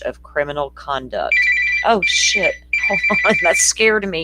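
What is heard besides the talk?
phone ringing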